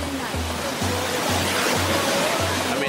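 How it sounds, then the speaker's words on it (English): Waterfalls along a walking trail near glowworm caves make a dense, unbroken rushing hiss, with a faint, low repeating pattern sitting beneath the water noise. "It's beautiful, there's waterfalls"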